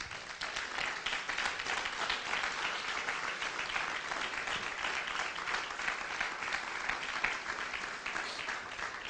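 A church congregation applauds during a service, a dense, steady wash of many hands clapping that holds evenly throughout without pause.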